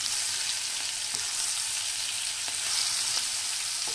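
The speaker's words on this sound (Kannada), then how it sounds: "ನಾನು ಹಸಿಮೆಣಸಿನ್ಕಾಯಿ, ಬೆಳ್ಳುಳ್ಳಿ ಕುಟ್ಟಿದ್ನಲ್ಲ ಅದು ಹಾಕ್ತಿದ್ದೀನಿ" Crushed green chili and garlic fry in a pan with a steady, loud, even sizzle, with no voices over it.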